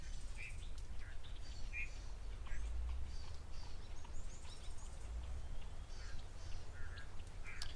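Various birds call and chirp at an African waterhole, short bright calls scattered over a steady outdoor rumble, moderately distant and fairly faint throughout.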